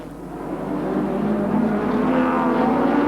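A Ford Sierra touring car and other racing cars at the 1987 Wellington street race, engines droning steadily and building slightly in loudness, a continuous mid-distance roar with no voices.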